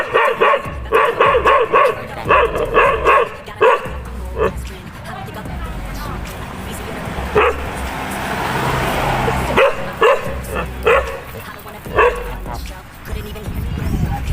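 A dog barks and yips in repeated bursts, fairly close, at a roadside spot with a car passing, with short quieter stretches and some whimpering between the barks.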